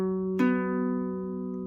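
A guitar chord strummed once after two fingers shift down a string, ringing steadily and close with no talk, a faint second touch near the end.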